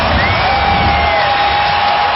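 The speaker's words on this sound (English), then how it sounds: "this crowd here for the Cavaliers" Basketball arena crowd cheering for the Cleveland Cavaliers during a 2008 NBA playoff game against the Washington Wizards, a loud, steady roar of massed voices filling the whole moment.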